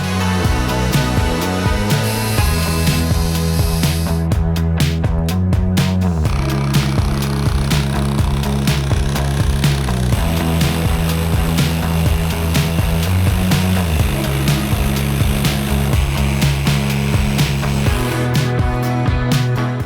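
A loud, continuous power tool whine, steady throughout and alone, of a drill and jigsaw cutting through the sheet metal wall of a van.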